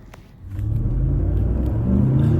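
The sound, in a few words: car engine running while warming up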